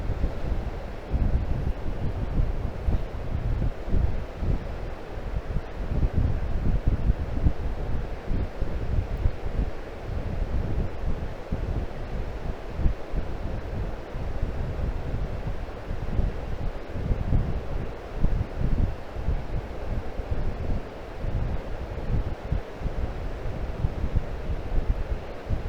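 Strong wind buffeting the microphone of a drone flying over open water at night, a continuous loud gusty roar with surf-like rushing underneath, steady for the whole stretch with no talking.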